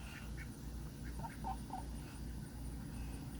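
A hen duck sitting on eggs near a farm coop gives a few short, faint quacks, with steady outdoor background noise all through.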